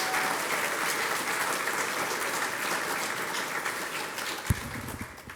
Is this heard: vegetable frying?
no